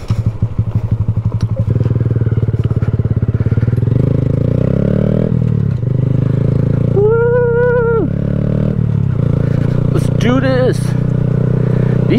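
A 2020 Honda Grom motard motorcycle rides on dirt, its steady close engine drone rising and falling with throttle, with a few sharp upward revs partway through and a continuous rumble throughout.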